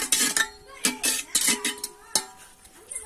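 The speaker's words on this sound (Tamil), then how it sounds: "சமையல் பண்ணதுக்கு சட்டி வச்சுட்டாங்க" Metal cooking pot set down and handled at an outdoor cooking spot, with a quick series of close, loud clanks and scrapes of metal utensils against the pot, no talking.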